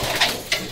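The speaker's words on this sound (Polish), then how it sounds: "To tu są takie charakterystyczne gołębie" Racing pigeons in a loft give two soft, close coos in quick succession over a quiet background.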